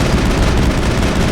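Rapid gunfire from a horrible-sounding gun in the Mass Effect PC game, a dense, loud, continuous burst of shots and rumble running through the whole moment.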